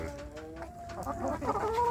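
Free-range village chickens cluck and call close by, with a rooster among them, several birds overlapping in a steady, slightly rising chorus of clucks and short calls.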